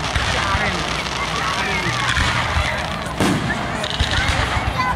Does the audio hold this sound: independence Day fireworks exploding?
yes